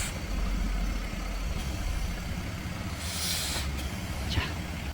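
An LPG gasoline car's engine idles with a low, steady rumble, moderately quiet and without speech, while a brief broadband hiss swells near the end.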